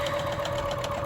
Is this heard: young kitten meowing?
no